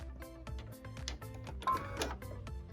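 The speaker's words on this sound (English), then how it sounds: "we're going to put it under our little presser foot and get ready to sew" A sewing machine stitches fabric for a tablet sleeve under the presser foot, giving a close, steady, rhythmic mechanical clatter with quick repeated needle strokes and a brief louder burst midway.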